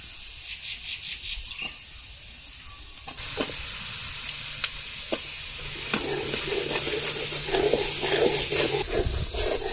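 Spices frying in oil with onion and garlic paste in a home kitchen, a steady soft sizzle with occasional clinks and stirring scrapes, growing busier toward the end.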